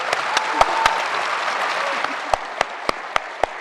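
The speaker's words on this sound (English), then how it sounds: "Can we just give these authors a great round of applause?" Audience at the Dayton Literary Peace Prize author event applauds the authors, a steady wash of clapping with a few sharp, distinct claps standing out near the microphone throughout.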